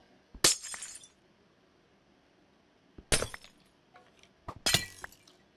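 Glass blocks shatter in Minecraft Project Ozone 2 Titan Mode, three sharp, loud breaking crashes spaced apart, each a bright burst of clinking shards over near silence.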